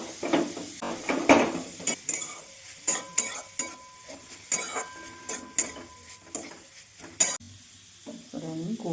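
Grated coconut dry-roasting in a hot wok for a Bengali bhapa pitha filling, with repeated scraping and stirring strokes and light sizzling in an irregular rhythm, close and fairly clear with no talk.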